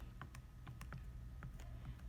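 Calculator keys pressed for a linear regression, a quick run of light plastic clicks, about a dozen taps in uneven rhythm over two seconds, close and faint with no talking.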